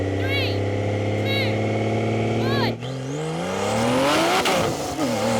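Porsche GT2 RS and a tuned Porsche 911 Carrera roll into a half-mile race at 10 mph, a steady engine drone swelling into loud, rising acceleration with gear-change dips, close and continuous.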